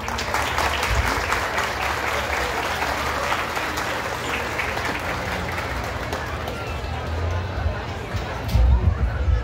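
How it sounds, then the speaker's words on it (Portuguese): A crowd at a hometown festival for absent residents applauds an honoree, a sustained spread of clapping with murmured chatter and voices mixed in, and low bumps near the end. "Você merece todos os aplausos"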